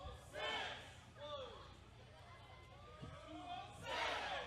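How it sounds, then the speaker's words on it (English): Wrestling crowd at an evening gown powerbomb match, a roaring mass of voices cheering and yelling throughout, rising in bursts near the start and again at the end, with scattered shouts over the din. "Listen to this crowd."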